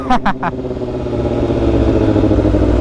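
A supercharged 2021 Kawasaki Z H2 motorcycle engine roars and builds steadily on a test ride, loud and close, with a brief burst of voice at the start.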